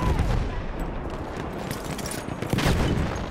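Sustained machine gun fire in the World War I shooter Battlefield 1, dense crackling bursts amid loud battlefield din.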